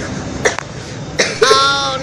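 A person coughs a couple of times in short, close bursts, each with a rough throaty edge, between stretches of quieter room sound.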